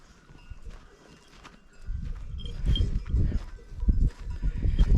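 Goats and sheep of a herd kept by a shepherdess, heard as a busy outdoor mix of shuffling hooves and animal noise that grows louder and denser after the first couple of seconds, with a faint bell-like tinkle now and then.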